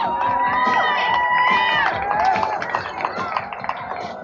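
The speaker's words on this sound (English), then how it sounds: "Being cheered on by the crowd at the finish line." A crowd cheers and shouts at the finish line of a kids' BMX bike race for a 1989 TV show, with children's voices yelling and scattered clapping close by in a lively burst.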